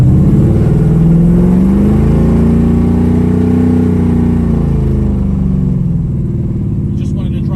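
A 1972 Chevrolet Nova accelerates in third gear from inside the car. The engine gives a loud, sustained drone that climbs and then eases back in pitch, with talk over it.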